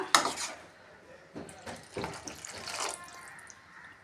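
Water is poured into a cooking pot of sautéed tomato mixture for tomato kuzhambu, giving a few short splashing pours and clinks of the vessel, fairly close and quiet.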